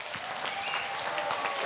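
An audience at a Vendée Globe 2024 press conference applauds as skipper Antoine Cornic joins them, fairly faint but dense, continuous clapping from a crowd with a murmur of voices underneath.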